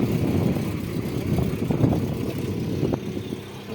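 A Lada Largus Cross sits with its engine idling, a steady low rumble close by with a few light knocks and clicks and no one talking.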